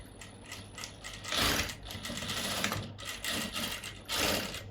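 An Usha S2 sewing machine stitching, a steady mechanical whirring and clatter that surges in several bursts with brief slower stretches between, close and alone with no talk.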